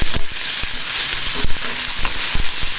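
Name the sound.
small onions and curry leaves sautéing in hot oil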